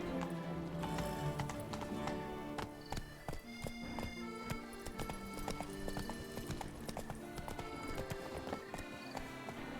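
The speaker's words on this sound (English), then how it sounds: "Horse." Roach the horse in The Witcher 3 clops along with steady hoofbeats and lets out a neigh, set against a dense bed of game music and ambience that runs continuously throughout.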